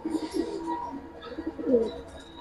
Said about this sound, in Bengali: কালো গলা সাপছিলা কবুতর।